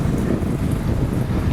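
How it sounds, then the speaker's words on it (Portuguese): Wind buffets a microphone outdoors with a steady, loud low rumble and rushing noise that never lets up. "o local aqui está ventando um pouquinho e me prejudica na hora de pegar as folhas"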